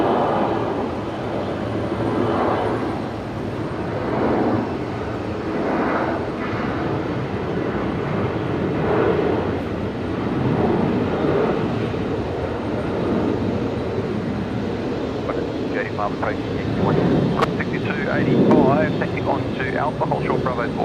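A Qantas jet airliner rolls for takeoff at Brisbane Airport, bound for Christchurch, with a steady broad engine roar throughout and air-traffic radio voices talking over it.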